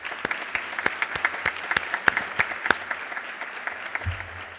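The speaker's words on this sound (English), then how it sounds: "Please join me in giving our donors a round of applause." Audience applause at a community foundation scholarship award ceremony honoring donors, steady clapping from a seated crowd filling the room at moderate loudness, sustained evenly throughout.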